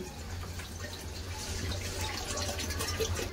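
Water runs steadily from a tap into a kadai set up to boil soaked lentils for a Bengali home meal, a constant close splashing flow with faint dripping for the whole stretch.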